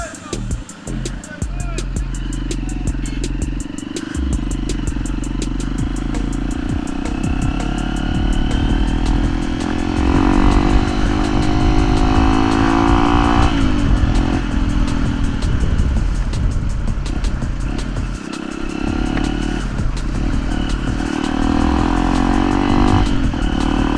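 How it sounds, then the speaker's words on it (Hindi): A Hero Impulse dirt bike engine revving through a loud, worn Akrapovic exhaust, a close, throaty roar rising and falling over a long stretch while someone talks over it. "ये एक्रापोविक M का जो एग्जॉस्ट लगा हुआ है वो बहुत ही मतलब लाउड है, और एग्जॉस्ट भी ख़राब हो चुका है।"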